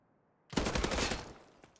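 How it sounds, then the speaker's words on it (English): A burst of rapid automatic gunfire from a Thompson submachine gun in a competitive World War II shooter match erupts loud and close after silence, then trails off. "Blade gets a shot on Revo."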